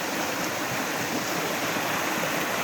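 Creek rapids rush over rocks at a campground property on Tusquittee Creek, a steady, loud, broadband wash of flowing water close by with no pauses or talk.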